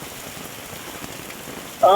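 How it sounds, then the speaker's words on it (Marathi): Heavy rain in Mumbai patters steadily on a surface, a soft, continuous wash of drops with no talking. "मुंबईत आज पहाटेपासूनच जोरदार पाऊस कोसळतोय"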